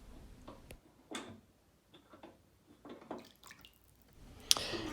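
Water gurgling and trickling down a repaired bathtub drain, with irregular close splashes, drips and sputters at modest volume and a louder rushing surge near the end.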